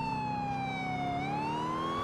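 A police siren wails steadily in the GTA IV video game, a loud continuous tone that dips slowly in pitch and then rises again with no talking.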